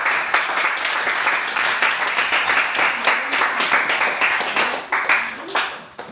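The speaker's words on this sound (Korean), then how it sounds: "네, 박수." A class of students at the end of a lesson claps together, a dense, loud burst of applause that keeps going for several seconds and then tapers off at the end.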